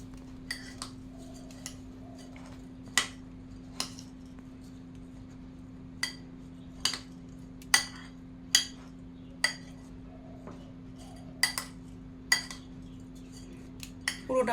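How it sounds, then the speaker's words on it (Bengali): Rice gets mixed with ginger-chili paste and food colour for basanti pulao, a spoon clinking sharply against a bowl in an irregular series of distinct taps over a low steady hum. "ভালো করে মিশিয়ে নিচ্ছি।"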